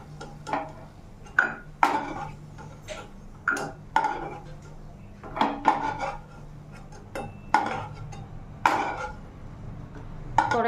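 Fried cashews and raisins are scooped out of a pan into a bowl, a series of close, distinct clinks and scrapes of a spoon on metal, spaced irregularly with quiet gaps between.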